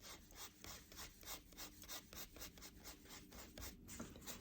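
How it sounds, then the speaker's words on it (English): A graphite pencil held on its side shades a portrait on paper, making quiet, steady back-and-forth scratchy rubbing strokes in an even rhythm. "I'm using my pencil sideways"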